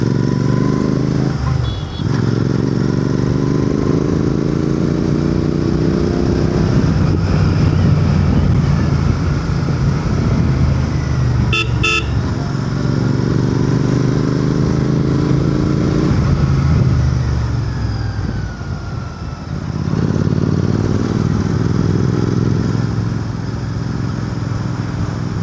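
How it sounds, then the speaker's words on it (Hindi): A GT 650 motorcycle engine rumbles close up while riding in Indian traffic, rising and falling in pitch as it revs and slows under engine braking, with brief dips of deceleration and a couple of clicks. "Using engine braking more than actual brakes"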